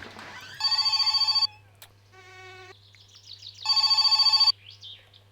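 A telephone in the video game My Summer Car rings in two loud, rapid trilling bursts with a quieter pause between them, over a low steady hum.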